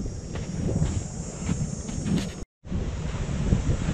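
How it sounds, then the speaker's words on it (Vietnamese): Sea waves and wind at the beach make a steady, breezy wash of noise that buffets the microphone, broken by a brief silent dropout midway. "Đang xuống gần tới biển"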